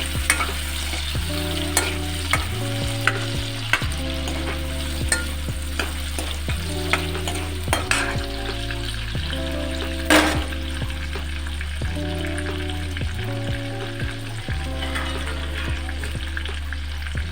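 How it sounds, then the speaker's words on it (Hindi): Tomatoes fry in a pan for a methi aloo sabzi, a continuous close sizzle punctuated by regular spatula scrapes and stirring knocks, with a low steady hum beneath and no talking. "टमाटर को भी थोड़ी देर भूनेंगे ऐसे ही।"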